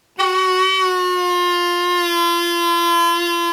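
A harmonica's hole 2 draw note, accidentally bent flat, rings as one steady sustained tone that starts abruptly and holds evenly for several seconds, loud and close with no talking.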